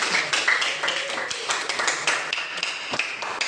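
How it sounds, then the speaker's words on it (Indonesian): Classroom applause from students welcoming a presenting group, a dense patter of many hands clapping at close range, steady for a few seconds with scattered sharper claps. "Tepuk tangan."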